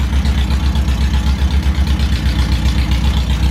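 A 1977 Honda Hondamatic motorcycle engine, a barn find in need of new exhaust pipes, runs without the choke at a loud, close, lumpy idle with a steady low rhythmic pulse and no talk.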